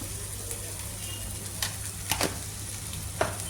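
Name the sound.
green peas being stirred and sautéed in a pan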